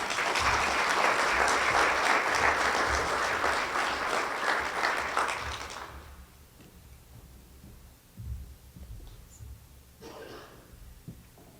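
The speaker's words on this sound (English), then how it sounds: "give her a round of applause" An audience at a chamber of commerce member appreciation luncheon bursts into loud, dense applause for about six seconds, then it fades, leaving a quiet room with a few faint sounds.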